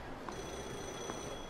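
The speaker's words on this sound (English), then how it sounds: "Why a payphone ringing?" A payphone rings in the video game Yakuza 0, a faint, steady electronic trill held throughout at low volume against quiet background ambience.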